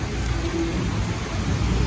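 Steady rain with a low thunder rumble during stormy outdoor weather, a continuous loud wash of noise with no talk.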